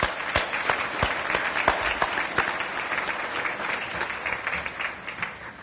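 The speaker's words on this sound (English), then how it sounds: "Please give all of our gold sponsors a round of applause." Applause at an awards luncheon for gold sponsors, a room of people clapping steadily, with several sharp, distinct claps close by standing out above the broader spread of hands.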